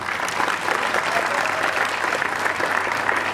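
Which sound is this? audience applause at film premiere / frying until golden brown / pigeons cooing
audience applause at film premiere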